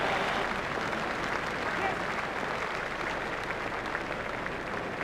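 A cricket crowd at a New Zealand versus Australia match applauds a well-timed shot, steady dense clapping and cheering sustained throughout, loud and continuous with a commentator's voice underneath.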